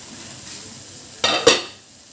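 A lid is lifted off a pan of cooking carrot halwa, giving two quick, close metallic clinks and a short scrape over a low kitchen hiss.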